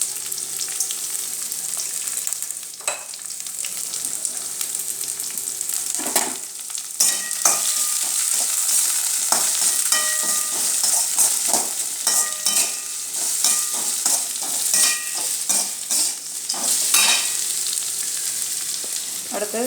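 Onions sautéing in a pan for mutton curry with green chillies and rock salt, a steady close sizzle and fry with a spatula stirring and scraping the pan through most of it, no voices.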